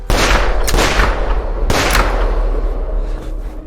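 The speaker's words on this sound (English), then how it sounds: "He shoots into the basement." Gunshots fire into a basement in The Quarry video game, two heavy, booming blasts about a second apart, loud and close, followed by a rumbling low-frequency tail.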